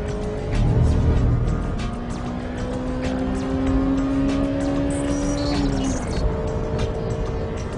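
A Honda Civic EK9 Type R with its B16B engine runs at full throttle on a race circuit through the S and Spoon corners, a loud, sustained high-revving whine that climbs steadily and then drops as the car shifts.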